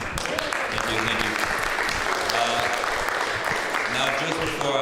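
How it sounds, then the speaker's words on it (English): Applause from a church audience at a Trinity Lutheran Church event fills the room, a dense steady wash of clapping with voices murmuring underneath. "round of applause, everybody."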